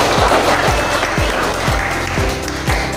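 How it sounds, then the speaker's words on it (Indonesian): Classroom applause for a student group, a dense wash of clapping from many children lasting throughout, with a rhythmic low thumping underneath. "berikan tepuk tangan buat kelompok 4"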